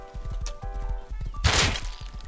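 A horse in the survival video game Rust gallops with quick rhythmic hoofbeats, a short whinny and a burst of snorting breath, all loud and close with no talking.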